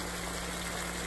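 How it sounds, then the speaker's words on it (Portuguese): Water pouring steadily into a pan while a tomato-based sauce is being made, a continuous even trickle and wash of liquid close by, with no talk over it. "Vou colocar mais água para fazer o molho."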